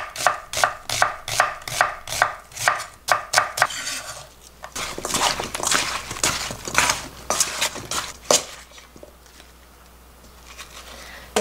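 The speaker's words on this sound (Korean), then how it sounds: "양파 반 개를 조금 반 잘라서" A knife chops half an onion into thin strips on a cutting board: a fast, regular run of sharp, close knocks gives way to denser, rougher cutting before fading out.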